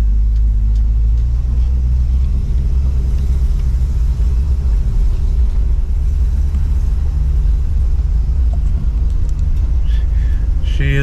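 A Ford LeMans with weak, poorly adjusted brakes drives along with a loud, constant low engine rumble and road drone, steady throughout and close up.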